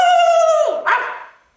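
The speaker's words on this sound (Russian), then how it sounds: "Вдруг сердито под крыльцом пес залаял." A single drawn-out dog howl or bark-like vocal, loud and near, sliding down in pitch and ending in a brief yelp before fading out.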